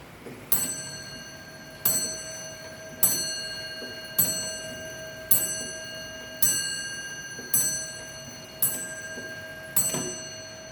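A Frisian Dutch tail clock with a single weight on a pulley strikes a ringing bell-like chime about once a second, eight clear strokes in a row, each decaying over a soft, steady tick.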